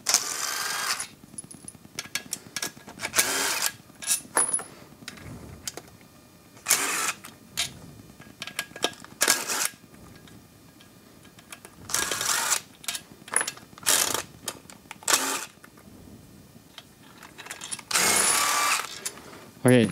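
Flange bolts come off a cross pattern on an Audi 01E transmission: several loud, short mechanical bursts, like an impact tool, are separated by quieter gaps, and someone talks between and over them.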